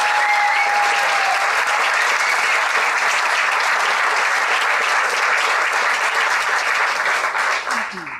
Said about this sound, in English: a giant round of applause for everything